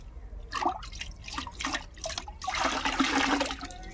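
About 150 grams of oil cake being stirred into foul-smelling water, a close wet sloshing and swirling that grows fuller and louder toward the end, with no talking.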